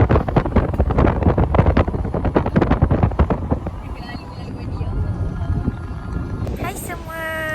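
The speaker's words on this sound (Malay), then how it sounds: "Angin sangat kuat ya. Sangat-sangat kuat. Dan ombak pun sangat-sangat kuat." Strong wind roars across the microphone at Tok Bali beach in Kelantan, with heavy waves in the mix. The loud, gusty rush runs throughout and eases slightly toward the end.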